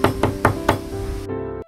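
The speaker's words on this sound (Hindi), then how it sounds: "तभी दरवाजे पर दस्तक हुई।" Four firm knocks land on a door in an even rhythm, loud and close, then a low resonant hum lingers before cutting out.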